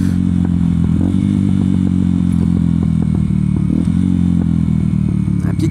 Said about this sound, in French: si la moto fait trop de bruit